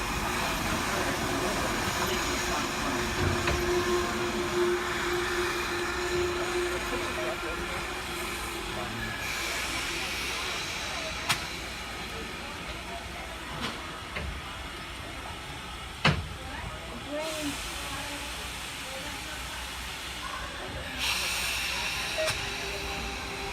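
Steam train at the Strasburg Railroad in Lancaster, Pennsylvania, a steady rumbling hiss of rolling rail cars with a few sharp clanks and knocks near the end, heard moderately close with no talk over it.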